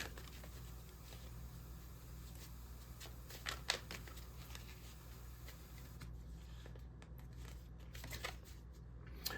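Tarot cards being shuffled by hand at a reading table, soft, quiet papery riffling and rubbing with a few light taps, close and low over a steady background hum.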